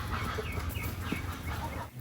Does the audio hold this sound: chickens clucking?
yes